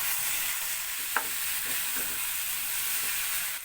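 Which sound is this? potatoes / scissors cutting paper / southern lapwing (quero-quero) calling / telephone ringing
potatoes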